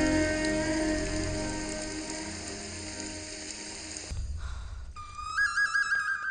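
Steady rain patters down through the whole stretch, mixed at first with sustained musical tones, then turning thinner and sparser with some faint clicking near the end.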